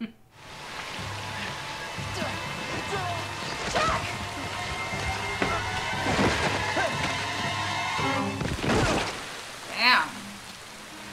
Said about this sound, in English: He meant it was gonna rain.